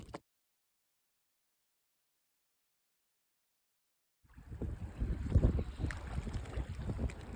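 Kayak paddling during a fishing tournament begins after several seconds of silence. Rough water splashes and wind buffet the microphone, close and fairly loud, to the end of the clip.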